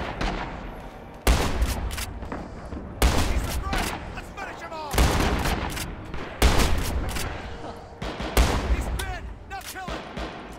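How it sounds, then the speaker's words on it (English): Loud, repeated gunfire from the World War II shooter Rising Storm, with heavy shots every couple of seconds over a dense wash of distant battle noise, and a voice talking between them. "Someone's gun is loud."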